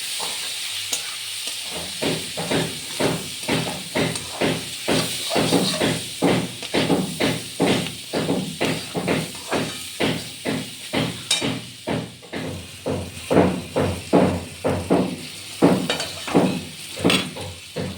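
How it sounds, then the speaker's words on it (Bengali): Food is stirred with salt and turmeric in a hot pan, a long run of rhythmic spatula scrapes, roughly one per half second, over a constant sizzle, close and loud with no voices. "লবণ দিলাম, হলুদ দিলাম, দিয়ে নাড়াচাড়া করব"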